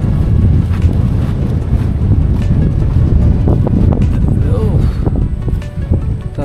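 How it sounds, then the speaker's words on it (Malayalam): Rain and strong wind at an open-air fish farm, a loud, continuous roar of wind buffeting the microphone with rain hissing underneath throughout. "മഴ പെയ്ത് തുടങ്ങി"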